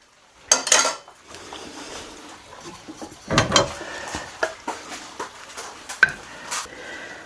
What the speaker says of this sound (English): I like to put it in a ramekin, turn it out.